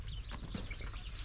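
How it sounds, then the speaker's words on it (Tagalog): Chickens on a farm give soft, scattered clucks and chirps, faint against a constant background rumble, with no voices heard. "may mga manok pala dito sila sir"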